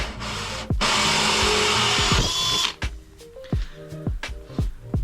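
A power drill bores a hole through the top of a reef tank light bar in a short, loud whirring burst of about two seconds, followed by scattered clanks and knocks from handling.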